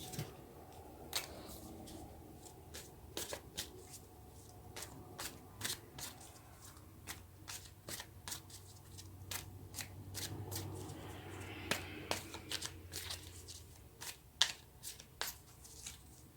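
Tarot cards being shuffled during a reading, a run of crisp riffling flicks and soft slaps repeating in bursts over a quiet low hum, close and fairly faint.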